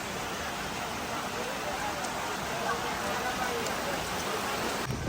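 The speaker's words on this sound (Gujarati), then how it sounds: "ગોવા બીચ ઉપર આ વરસાદ બરોબરનો જામ્યો છે ક્યારનો 25 મિનિટથી ચાલુ છે" Heavy rain pours steadily on Colva Beach in South Goa in the evening, a dense, unbroken hiss of drops, continuous and loud throughout.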